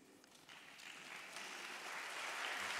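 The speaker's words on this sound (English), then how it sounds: "Please hold your applause." Conference delegates applaud in a large hall, a soft, somewhat distant wash of many hands clapping that steadily swells and grows louder over about three seconds.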